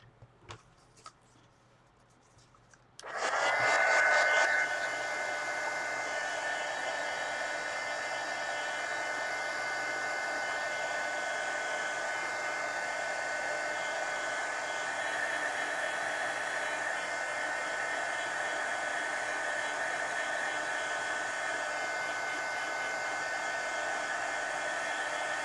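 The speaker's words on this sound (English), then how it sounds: "So I'm going to hit this with a heat gun." A heat gun blasts steadily over a wet watercolor base coat on an adult coloring page, switching on after a few seconds of quiet handling and then holding a loud, even whoosh with a faint whine until the end, with no talk.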